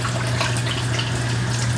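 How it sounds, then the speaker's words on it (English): A kitchen tap runs steadily into the sink, a loud, close, unbroken splashing hiss with a low constant hum beneath it and no speech. "I think I'm just going to let the water run while I'm cooking here today."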